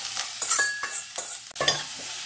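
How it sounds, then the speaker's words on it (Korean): Oysters stir-fried in perilla oil in a pan, with a steady sizzle broken by several scraping stirs of a utensil, close and moderately loud, no talking. "그래서 들기름에 볶아줍니다."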